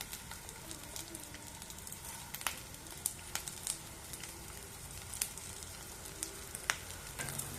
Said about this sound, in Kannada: ಜೀರಿಗೆನೂ ಸಹ ಹಾಕೊಳ್ಳೋಣ ಹುಚ್ಚೆಳ್ಳು ಸಹ ಹಾಕೋಬಿಡೋಣ ಇವಾಗಲೇ